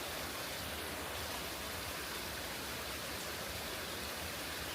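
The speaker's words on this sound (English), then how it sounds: "stream with a waterfall." A small stream with a waterfall on a hiking trail: a steady, broadband rush of falling water that fills the whole clip, close and constant, with no voices.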